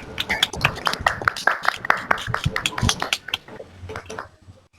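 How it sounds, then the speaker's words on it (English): Audience clapping for poet Santosh Bakaya at a poetry reading event, a dense patter of close claps that thins and fades out toward the end. "Can we please have a round of applause for our very own Santosh Bakaya ma'am?"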